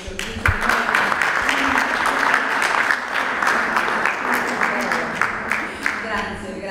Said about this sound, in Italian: E iniziamo con un applauso